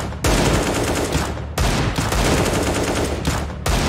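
Rapid bursts of Counter-Strike style gunfire in a video game, loud and close, in three dense sustained volleys separated by brief pauses, with no voices over it.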